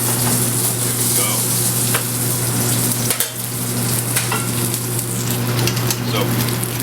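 Duck breast pan-searing with its fat cap rendering, a loud, continuous close sizzle and crackle that holds steady the whole time, with a brief dip in the middle.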